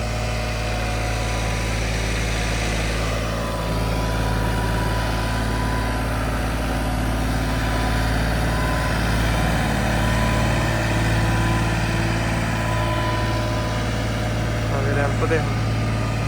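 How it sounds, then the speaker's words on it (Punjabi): A tractor hauls a trolley up a ramp through rain-soaked mud at a potato field, its engine droning steadily and loudly for the whole stretch while voices talk faintly underneath. "ਹੁਣ ਰੈਂਪ ਤੇ ਚੜਨ ਲੱਗੀ ਆ ਟਰਾਲੀ ਟਰੈਕਟਰ ਦੇਖ ਲਓ"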